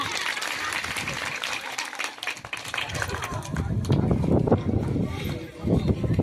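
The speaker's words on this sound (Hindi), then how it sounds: "जोरदार तालियां।" A school gathering gives loud, enthusiastic applause as a teacher is welcomed, a dense crowd of clapping that dips briefly, then swells again with some voices mixed in.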